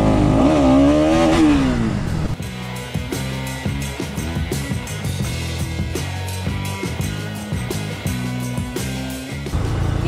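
A 2022 Bajaj Pulsar NS200 motorcycle engine revs up and falls back in a quick throttle blip, then settles into a loud, close, steady idle with a rhythmic, slightly clattering pulse.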